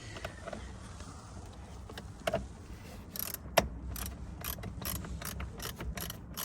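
A ratchet wrench clicks in quick bursts while loosening a bolt on a Nissan Micra K12 during horn and clock spring repair work, with sharp pawl clicks and one louder knock, close and without talk.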